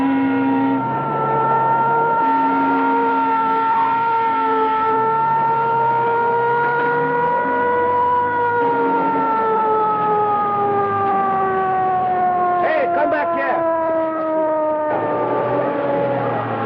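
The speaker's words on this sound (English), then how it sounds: "ambulance coming." An ambulance siren in a 1932 film, a loud, steady wailing tone that slowly rises and falls and continues for the whole stretch, with no talking over it.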